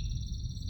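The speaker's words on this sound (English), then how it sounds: "I love that fucking weird-ass frog sound" Strange frog-like creature call in the 1997 video game Riven, a short, steady, buzzy croak with a bright whistling tone layered over a low hum, heard alone.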